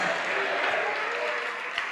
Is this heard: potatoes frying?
no